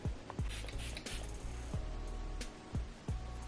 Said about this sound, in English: I sprayed a little extra on,